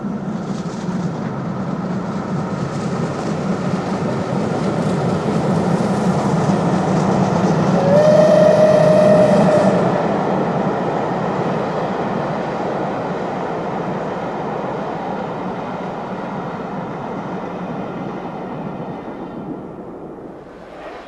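The British Pullman train, a luxury Venice-Simplon Orient-Express set, rolls along with a steady loud rumble and rhythmic wheel clatter, and a brief whistle sounds midway through.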